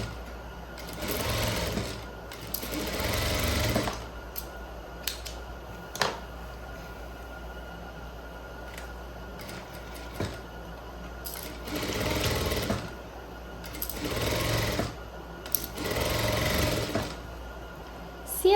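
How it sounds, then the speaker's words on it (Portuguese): An electric sewing machine stitches pleats on trousers with backstitching, running in several short loud whirring bursts separated by pauses and small clicks, with a few quiet words spoken between runs. "eu vou vir com o retrocesso. Vou até embaixo."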